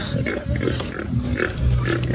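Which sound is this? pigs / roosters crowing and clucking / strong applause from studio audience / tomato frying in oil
pigs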